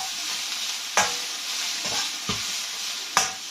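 Broccoli stir-fried in a drop of hot oil gives a steady, bright sizzle, broken by a few sharp clanks of the utensil against the pan at irregular intervals.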